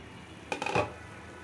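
A single quick stir of pabda fish curry in a pan, a brief metallic scrape and clink of the spoon against the pan, faint and isolated in a quiet kitchen.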